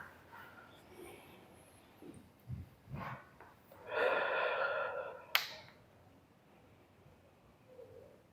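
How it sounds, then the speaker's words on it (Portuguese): Slow, deliberate breaths from a guided breathing exercise during a spiritual talk: a couple of soft puffs, then a longer, fuller rushing exhale and a sharp click, quiet and close with no speech. "vamos fazer mais uma sequência de respiração."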